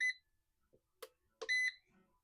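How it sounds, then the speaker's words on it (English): An Anna Griffin hot foil gilding machine gives a few short electronic beeps on powering up, separated by quiet pauses, close and fairly faint. "The machine will beep again to indicate that it is on."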